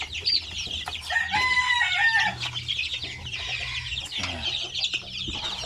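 Young chickens, two months old, cluck and chatter continuously at close range, with overlapping calls and a brief crow-like note rising over the flock.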